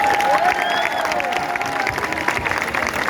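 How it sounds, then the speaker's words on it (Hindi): A crowd at a protest rally at Jantar Mantar claps and cheers after a speech, a dense, sustained burst of applause with shouts and a whistle-like tone mixed in. "सबसे पहले चाहूंगा कि आप सब हम सब के लिए तालियां बजाएं"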